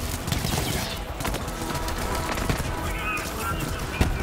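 Rapid gunfire bursts crackle from behind the player in the shooter game Borderlands 3, mixed with loud battle noise and overlapping game sounds throughout.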